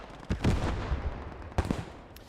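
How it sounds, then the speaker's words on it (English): Mortar fire in the Post Scriptum video game, two loud distant booms about a second apart, each with a short rumbling tail. "See the mortars over there."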